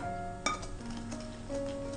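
A utensil clinks against a bowl while custard cream mixture is stirred, with one sharp knock early on followed by softer scraping and faint tonal ringing, close and without voices.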